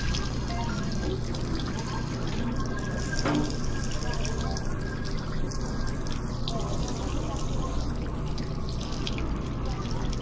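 A tap runs steadily in a video game, a continuous rush of water filling a sink, fairly loud and unbroken throughout.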